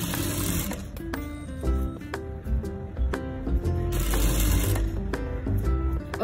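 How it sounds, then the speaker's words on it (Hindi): A sewing machine stitches a canvas strip onto a princess-cut deep-neck blouse, its needle clattering in rapid, steady bursts with brief pauses between runs, close and fairly loud. "तो चलो अब हमें सिलाई लगा देते हैं इस पे।"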